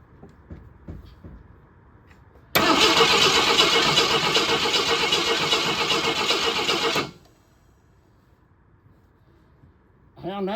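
An 1988 AMC Eagle engine cranks loudly for about four and a half seconds without catching, a steady grinding whir that stops abruptly; quiet talk comes before and after it.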